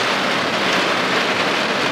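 Rain falls steadily during a fishing trip in bad weather, a dense, even hiss with no pauses and no voices over it.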